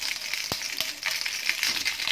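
Hot green peppers fry in oil in a home kitchen, giving a steady close sizzle with a few sharp pops and crackles throughout, and no voices.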